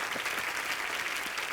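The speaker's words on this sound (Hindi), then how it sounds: "आप सबकी जोरदार तालियों के बीच" Steady applause from a studio audience at The Kapil Sharma Show, dense clapping that fills the whole stretch without pause, moderately loud and with no voices over it.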